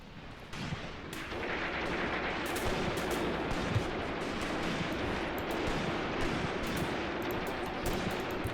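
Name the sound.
incoming gunfire in video game Mius Front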